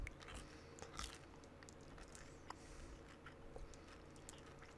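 Someone eats peanut butter M&M's up close and quietly: crisp bites and crunchy chewing, with a few sharper cracks early on.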